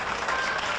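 A studio audience clapping, a brief dense burst of applause that sounds steady and fairly loud.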